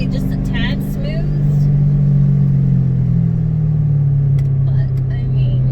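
A Ford Mustang GT race car, a NASA Spec Iron build, drones steadily under throttle from inside the cabin, a loud, low, continuous rumble with a slight rise in pitch, and a voice briefly heard over it.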